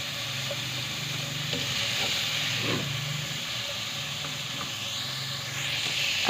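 Carrot, capsicum and chicken fry in oil for vegetable potato rolls, a continuous hissing sizzle with faint clinks and steamy rustle, held at a steady level and without talk.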